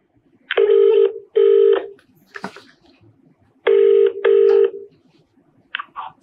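A telephone ringback tone on a call being placed, two paired bursts of ringing separated by a pause, loud and clear, with faint background noise between rings and no talking.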